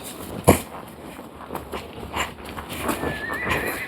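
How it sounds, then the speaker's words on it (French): A horse neighs and calls while out on a walk, with a sharp whinny early on followed by softer hoof clip-clops and movement; a faint rising tone drifts in toward the end. "Il hennit, il appelle."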